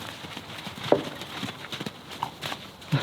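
A horse from a herd walks over, its hooves making a few soft, irregular clip-clop steps close by against quiet outdoor background.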